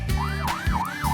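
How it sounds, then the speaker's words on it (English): A police car's loud, close siren wails up and down in quick repeating sweeps over a low rumbling engine, with no talking. "It's a police car."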